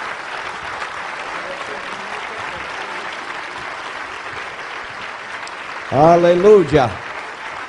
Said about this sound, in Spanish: vamos a darles un buen aplauso a todos estos dos varones esta noche